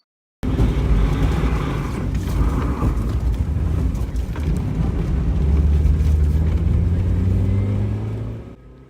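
A Porsche threads an autocross slalom at a Porsche Club of America event, heard from a stationary spot, its engine droning and rising continuously under wind noise and rising into a sustained revving pull near the end before fading.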